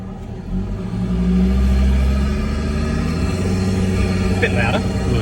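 Ford Ranger engine fitted with a Psico airbox, a deep rumbling drone that swells as the truck pulls away and then holds a steady, loud tone while driving; people speak briefly over it.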